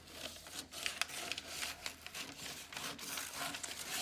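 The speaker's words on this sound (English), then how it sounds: "Okay, so now I'm going to cut that line." Scissors cut along a marked line in a long piece of paper, making a continuous soft rasping and rustling with small irregular snips, close and fairly quiet.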